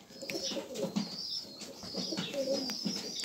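Red Galatean pigeons cooing softly in a breeder's loft, with low murmuring coos, occasional chirps from young birds and a light flutter of wings, steady and close throughout.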